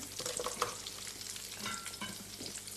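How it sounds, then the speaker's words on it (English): Onions and carrots sizzle steadily in hot fat in a pan and are given a quick turn with a spoon, a close, continuous crackle with scraping stirs and no talking. "The onions and the carrots in there. That's right. Just give them a quick turn."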